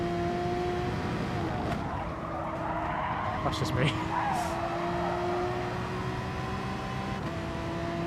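Race car engine in Gran Turismo Sport, a steady droning whine with sustained tones and brief tire-scrub flurries, running continuously under someone talking.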